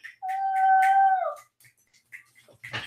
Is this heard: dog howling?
yes